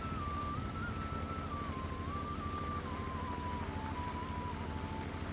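Steady rain patters and hisses throughout, with a thin whistling tone drifting faintly above it; no voices.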